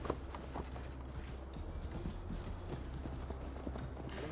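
Hooves pound in a quick, steady rhythm as a horse gallops in Assassin's Creed Valhalla, close and continuous over a low rumbling bed.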